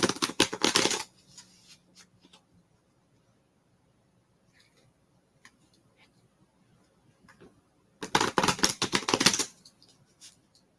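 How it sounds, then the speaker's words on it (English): Playing cards are shuffled in two quick riffling bursts, close and crisp, separated by a quiet stretch with a few soft handling clicks. "and then I shuffle them 3 times."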